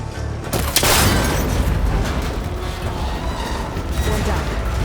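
A gunshot in Horizon Forbidden West strikes a cable connector on an ancient rickety tower, a loud booming crack with a mechanical snap, followed by sustained heavy rumbling and creaking that fills the moment.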